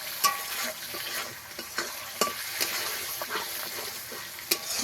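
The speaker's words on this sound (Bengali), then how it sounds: "এই গ্রেভিটাকে আমি ভালো করে একটু কষিয়ে নেব" Ginger-spiced gravy stir-fried in a pan for ilish pulao, a dense continuous sizzle with repeated spatula scrapes and knocks at an uneven rhythm, close and without voices.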